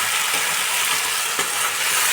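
Ginger, green chili and cashew paste frying on low heat in a pan, a steady soft sizzle continuing throughout with a faint stir scrape partway through.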